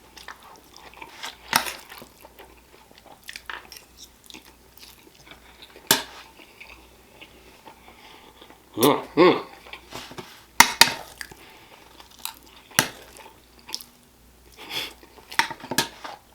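Chewing and biting through Chinese beef and broccoli at a mukbang meal, with wet crunchy mouth sounds in scattered close bursts alongside occasional clinks of cutlery against dishes.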